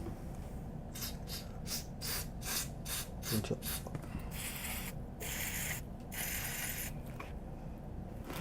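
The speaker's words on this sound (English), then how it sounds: "And then a little bit of switch cleaner." Switch cleaner sprayed onto the valve socket contacts of a Marshall JCM 2000 TSL 122 guitar amp, a series of short hissing bursts followed by several longer sprays over a low background hum.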